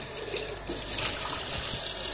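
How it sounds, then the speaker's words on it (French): Running tap water splashes steadily into a sink while the tank of a Tineco S5 wet-dry floor cleaner is rinsed, a continuous close hiss that grows a little louder partway through. "Et après, on rince tout simplement parce que tout est rinçable."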